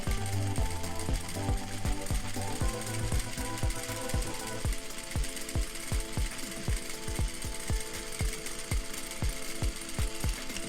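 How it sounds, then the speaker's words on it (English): A sewing machine stitching a 3/4 inch seam allowance, running loud and steady with a rapid rhythmic mechanical thumping that continues throughout, no voices over it. "start your seam as usual, and just sew the seam"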